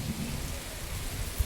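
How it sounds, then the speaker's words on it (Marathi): Heavy monsoon rain pouring down on an evening, a dense steady hiss of falling water close by with a single faint thud near the end. "खूप जास्त पडतोय बघा पाऊस."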